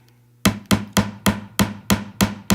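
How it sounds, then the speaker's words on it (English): A hammer drives tiny nails, held in tweezers, into a thin wooden board about half an inch thick. After a brief quiet moment come eight crisp, evenly spaced taps, close and clear, with no voices. "I'm gonna hold it with my tweezers and I'm gonna hammer it in."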